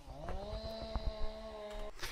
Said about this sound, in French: Je vais les casser la gueule à celui qui fait la tronçonneuse.